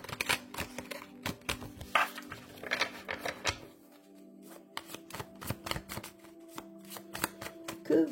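Oracle cards being shuffled by hand, close and crisp, in a rapid patter of riffled card edges with a few brief pauses over several seconds and no talking.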